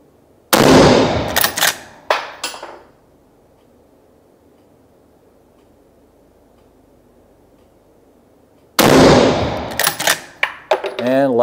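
Rifle shots from a LIWA ARMS straight-pull rifle on a range: a cluster of loud, sharp cracks with echoing tails near the start, a long quiet gap, then another loud burst of close shots at the end.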